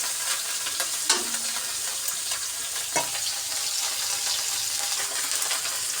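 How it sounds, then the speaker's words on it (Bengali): Bele fish frying in hot oil in a pan makes a continuous, even sizzle close by, with a couple of sharp clinks of a utensil against the pan and no talking. "মাছগুলোকে পিঠে করে ভালোভাবে ভেজে নিতে হবে, বেশি কড়া ভাজাও যাবে না"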